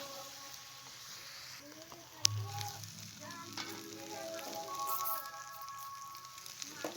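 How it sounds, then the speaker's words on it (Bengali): Cauliflower sautéing in a pan for a vegetarian dish cooked with ground spice paste: a soft, steady sizzle with a single sharp clatter partway through and a faint tonal hum behind it. "এবার ফুলকপিটা দিয়ে ভালো করে কষিয়ে নেব।"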